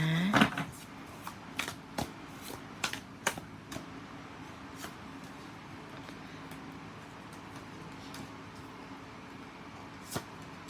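Tarot cards shuffled by hand, a brief riffle near the start followed by scattered soft card taps and slides, close and fairly quiet with no talking.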